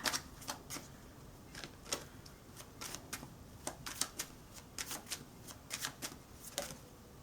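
Tarot cards shuffled and flicked near at hand, a rapid irregular series of crisp riffling snaps and slaps that continues throughout with no talking.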